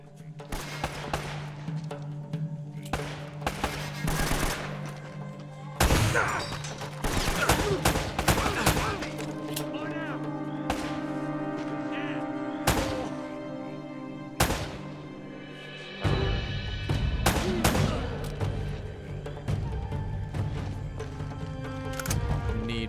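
Rapid gunfire from Uncharted: Drake's Fortune, volleys of close shots and bursts that keep coming across the whole stretch with a few heavy impacts, a steady low game hum underneath and occasional voices.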